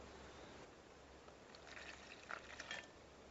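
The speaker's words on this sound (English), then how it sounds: "I'm going to add a 1/2 cup of water" Half a cup of water is poured into baking mix, a faint trickling splash arriving in the second half over quiet room tone.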